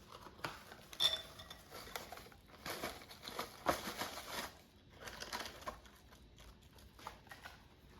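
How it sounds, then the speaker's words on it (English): Jiffy corn muffin mix and an egg stirred together in a bowl for air fryer cornbread, heard as faint intermittent scraping and clinking of a utensil against the bowl. "And mix until combined."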